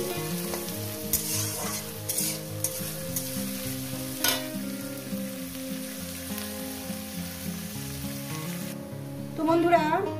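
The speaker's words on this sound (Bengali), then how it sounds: "এটাকে আমি মিনিট 2-3 মিনিট ধরে আমি এটাকে ভেজে নেব" Sliced onion and a generous amount of garlic frying in a pan, giving a continuous bright sizzle with occasional stirring scrapes, set against steady background music.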